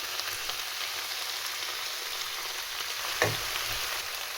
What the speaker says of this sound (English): I think it's time now to put the sauce in and see how that goes.